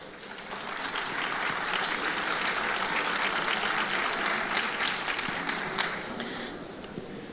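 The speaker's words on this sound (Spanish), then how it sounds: "Un aplauso, por favor." Sustained audience applause at a film event in Latin America, a steady dense wash of clapping from a seated crowd lasting several seconds, fairly loud and even, tapering slightly at the end.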